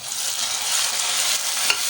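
Chopped tomatoes added to onions frying in a pan for a dhaba-style dal, giving a loud, continuous hiss and sizzle with faint stirring, no voices.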